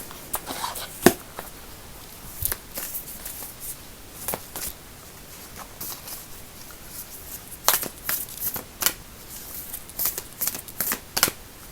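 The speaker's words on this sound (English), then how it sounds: "I'm gonna pull a card from the Whispers of Love Oracle cards." A deck of Whispers of Love oracle cards is shuffled up close, with soft riffling and scattered sharp flicks and slaps throughout.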